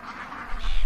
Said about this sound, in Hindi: भोजन प्रचुर मात्रा में होने के कारण पक्षी बड़ी शांति से अपना पेट भरते रहते